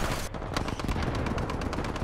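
Rapid gunfire from the video game Titanfall 2, a dense run of sharp shots that come close together and stay loud and steady, with no talk over them.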